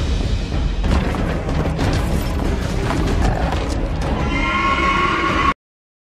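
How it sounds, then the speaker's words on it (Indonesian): Horses carrying armored medieval knights whinny and stir amid a loud, dense rumble of movement and clanking, which cuts off abruptly near the end. "betapa terkejutnya Eden melihat mereka seperti kesatria berkuda abad pertengahan, lengkap dengan baju besi"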